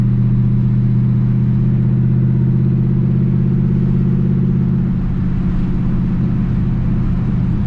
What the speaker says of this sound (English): Just get it and then go into gear and let on the clutch, and then you can give it gas.